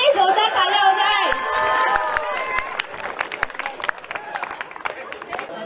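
Cheering and clapping from a crowd at a sangeet celebration, loud shouts and whoops at first that settle into scattered claps and crowd noise.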